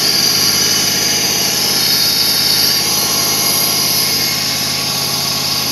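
A 1996 Lexus LS400 engine idles at an elevated speed after wiring repairs, giving a steady, loud, even hum with a constant mechanical whine throughout and no talk.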